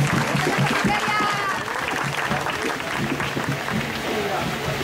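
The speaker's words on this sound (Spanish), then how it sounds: "Comprueban que la persona esté bien y la aplauden." A group of people at a ritual in Venezuela applauds a person coming out of a trance, a steady spread of clapping mixed with overlapping voices and chatter close by.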